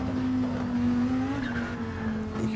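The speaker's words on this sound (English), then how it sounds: "You can feel that sliding, you can catch that" Lamborghini sliding with lift-off oversteer in a racing game on a direct-drive wheel, a steady engine drone with a rising squeal of tires as the car slips and is caught.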